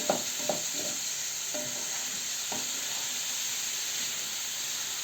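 Carrots and overgrown cucumbers sizzle steadily in oil in a hot pan, with a few scraping stirs near the start over the constant hiss.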